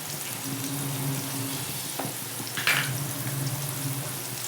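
Onions frying in a pan until brown for biryani, giving a steady close sizzle with a low hum underneath and a couple of brief clinks of a utensil, no voices.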